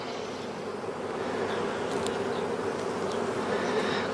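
Honey bees buzz steadily and loudly at an open hive during a beekeeper's inspection, a dense continuous drone filling the whole stretch with no talk.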